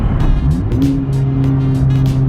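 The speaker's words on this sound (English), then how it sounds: "Another fourth gear pull." Honda Civic Type R pulling hard in fourth gear, engine note climbing steadily and loud from inside the cabin, with sharp clicks and ticks over the drone.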